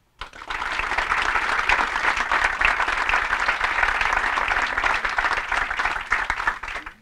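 An audience claps steadily to welcome Judge Eckhart at a 20th anniversary celebration. The applause is dense and even from a full room, beginning sharply and holding strong for about seven seconds before thinning slightly at the end.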